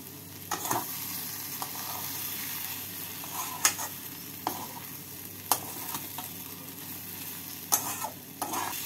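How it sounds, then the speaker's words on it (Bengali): Breadcrumbs are worked by hand into a chana dal and paneer kabab mixture, a steady soft rustling mash with a few sharp scrapes and knocks, close by with no talk. "পাউরুটি গুঁড়ো দিয়ে মিশিয়ে নিতে হবে"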